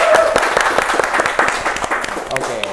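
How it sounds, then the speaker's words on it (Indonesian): Applause and clapping from a small group at a skateboarding gathering, a short burst of hand claps mixed with voices talking over it. "Tepuk tangan"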